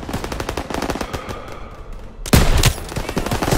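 Rapid machine gun bursts in Call of Duty WWII combat, loud and close, rattling in fast strings with a heavier blast and echoing volleys partway through, no voices over it.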